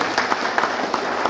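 Audience applause at a public gathering, approving a unanimous selection: a short, dense burst of many hands clapping that stays fairly steady throughout, with no voices rising above it.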